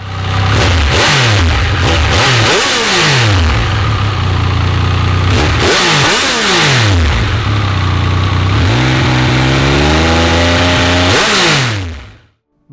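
A Triumph Speed Triple RR 1200 sport motorcycle's engine and exhaust rev up repeatedly, rising and falling in sharp surges, then settle into a longer climbing run before cutting off; loud and close, with no talking.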